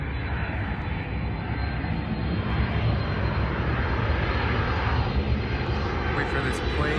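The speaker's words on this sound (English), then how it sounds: "Wait for this plane to pass by." An airplane passes overhead outdoors beside a parked 2022 Lexus IS 300, a loud continuous broadband roar that holds steady across the whole stretch, with a voice speaking faintly beneath it.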